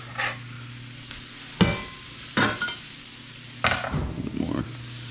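Garlic added to a pan of softened onions and other vegetables for a vegan ratatouille: a steady low sizzle broken by several sharp scrapes and stirs of a utensil against the pan, with no talking.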